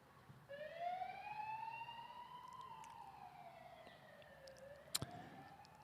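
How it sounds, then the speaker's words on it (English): Distant emergency vehicle siren sweeping up and down in a slow wail during a Sunday afternoon women's football match, faint and steady, with one sharp click near the end. "Got a few sirens going past on this Sunday afternoon."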